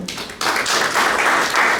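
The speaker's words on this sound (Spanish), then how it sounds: "¿Cuánto le da un aplauso al Señor?" A church congregation bursts into applause for the Lord during a sermon, a sudden, loud, sustained wash of clapping that rises abruptly and carries on steadily.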